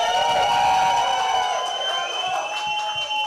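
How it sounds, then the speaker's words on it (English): An audience at a national poetry slam semi-final cheers and applauds for a poet, a sustained wash of crowd noise with whoops that thins and fades over a few seconds. "Let's hear it from the crowd."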